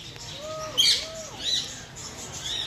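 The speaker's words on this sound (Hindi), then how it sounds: "इसको एलेक्स ब्रेन पैरेट्स बोलते हैं, पैराकीट बोलते हैं" An Alexandrine parakeet calls from an aviary at the Dehradun zoo (Malsi Deer Park), giving a few short, moderately near chirps and whistled notes spaced over a couple of seconds against soft outdoor background noise.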